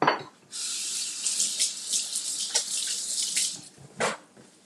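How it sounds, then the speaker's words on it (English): Hands washed under a running kitchen tap during pancake cooking, steady hiss of water with splashing changes as hands move, close and alone, briefly cut off near the end. "Wash my hands."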